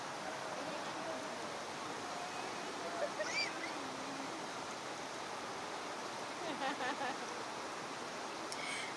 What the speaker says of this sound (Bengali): জলের আওয়াজে আপনারা বুঝতেও পারবেন কতটা স্রোত ছিল ওখানে